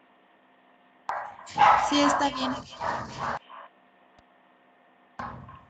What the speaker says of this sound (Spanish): es que mis perros están ladrando